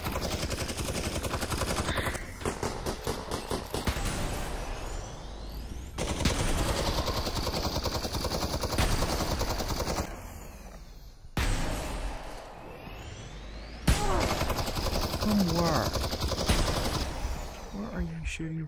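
Gunfire in the video game Half-Life: Alyx, loud rapid automatic bursts in several stretches separated by brief pauses, with a voice talking at points.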